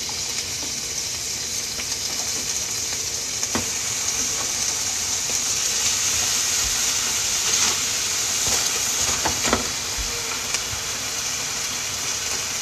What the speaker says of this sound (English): I'm just frying up a little onion because I like fried onion on my burger.